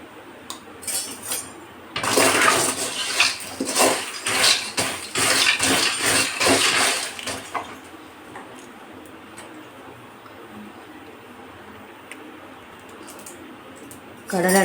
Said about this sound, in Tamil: இந்த மண் போட்டு வறுத்தா தான் கடலை நல்லா ஒன்று போல் நல்லா வறுபடும்